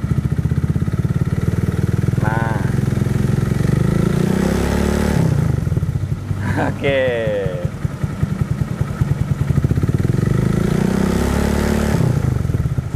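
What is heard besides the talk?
modified Honda Vario motorcycle exhaust idling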